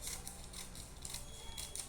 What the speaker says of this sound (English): You take your scissors and cut it out.